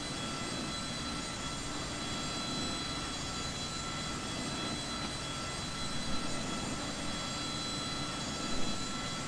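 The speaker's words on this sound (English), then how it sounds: "And we have compressed air being sent to the engine now." An F-104 Starfighter jet engine spooling up on the ground with compressed air during its start sequence. A steady, loud broadband roar with a sustained whine runs throughout, alone, with no speech.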